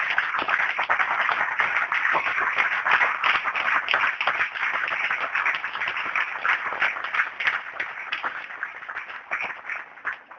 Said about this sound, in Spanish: Le damos un aplauso al Señor por sus justos juicios.